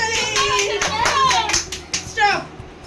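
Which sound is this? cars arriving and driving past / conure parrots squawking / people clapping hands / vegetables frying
people clapping hands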